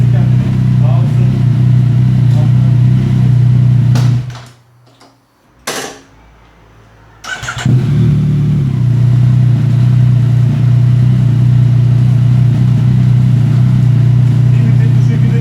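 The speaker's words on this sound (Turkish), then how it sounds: "Birinci viteste devir vereceğim." A Yamaha Tracer motorcycle engine revs in first gear, a loud, close steady drone that cuts out for about three seconds midway before picking back up at the same pitch, with a voice talking over it.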